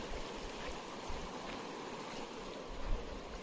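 A jungle river flows past a swimming spot as a steady, even rush of water with a soft broadband hiss, moderately quiet and with no one talking.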